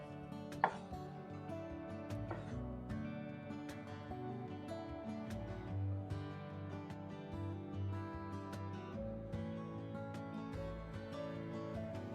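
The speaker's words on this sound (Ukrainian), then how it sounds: "Маслини. Їх краще порізати навпіл." A knife halves olives on a cutting board in quick, light, repeated taps, quiet and close, over a low steady background hum, with no talk.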